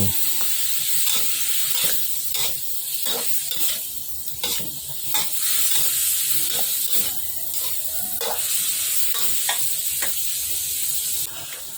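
A shrimp and basil stir-fry sizzles loudly in a hot pan while a utensil scrapes and clacks against it in repeated stirring strokes.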